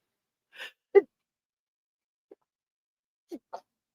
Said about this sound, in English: Didn't mean to sneeze in the microphone.